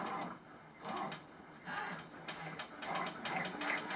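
A new Brother embroidery machine stitches steadily, giving a close, continuous run of rapid mechanical ticking and clicking that grows busier and louder partway through.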